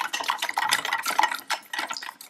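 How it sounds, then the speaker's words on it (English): A spoon stirs milk, sugar and all-purpose flour in a small saucepan, giving close, continuous scraping and clinking against the metal pan in quick, uneven strokes, with no talking. "stir it until the flour has completely dissolved into the milk and there are no more lumps"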